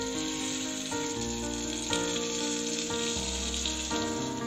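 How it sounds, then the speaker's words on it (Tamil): Brinjal sautéing in oil in a pan over a low flame for Chettinad ennai kathirikai kulambu, a steady soft sizzle running throughout with music playing over it. "கத்திரிக்காய் வந்து வதக்கும் போது நம்ம லோ ஃப்ளேம்லேயே வச்சுட்டே தான் வதக்கணும்"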